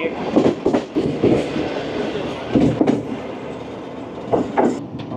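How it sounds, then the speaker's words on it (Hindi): The Hazara Express passenger train speeds away from Dhabeji station near Karachi, its wheels clattering in a loud rhythmic clickety-clack over the rails with a steady rumble throughout. "हज़ारा एक्सप्रेस ने स्पीड पकड़ ली और ये तेज़ी से रवाना हो गई।"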